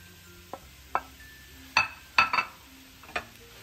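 Stirring makhandi halwa with nuts in a pan gives a few separate scraping clinks, spaced irregularly and close by, set against a faint steady sizzle with no voices.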